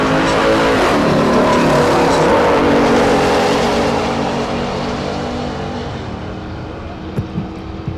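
Red Silverado pickup and red Chrysler launching side by side down the drag strip at Tulsa Raceway Park, a loud sustained engine roar that slowly recedes and fades over several seconds.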